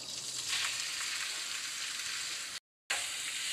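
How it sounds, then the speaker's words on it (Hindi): Small boneless chicken pieces frying in a pan with garlic and ginger give a steady hissing sizzle throughout, broken once by a brief dropout of silence near the end. "लहसुन अदरक कुछ पकने के बाद मैं इसमें डाल दूँगी ये चिकन"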